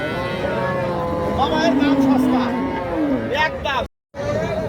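A cow at a cattle market gives a drawn-out low moo close by, with people talking around it and a brief gap in the sound near the end.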